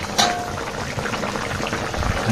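Lentil curry broth simmering in a pot in a village kitchen gives a close, continuous soft bubbling with gentle liquid gurgles and a brief sharper clink near the start, no speech.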